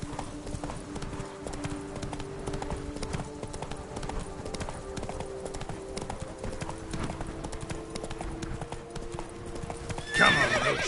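Roach, Geralt's horse in Witcher 3: Blood and Wine, gallops steadily with dense rapid hoofbeats over game ambience, rising into a louder burst near the end.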